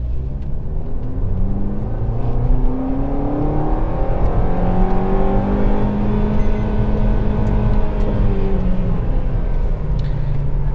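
A Maruti Ignis BS6 facelift with a K-series petrol engine and AMT, held in second gear and revved toward its 6500 rpm redline, a loud close steady engine drone with rising and falling pitch sweeps throughout.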